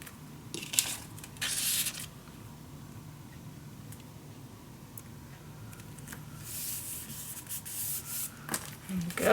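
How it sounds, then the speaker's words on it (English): Paper is rubbed and burnished flat onto a mini album page, soft scraping and brushing strokes in irregular short bursts, close and fairly quiet. "burnish it down"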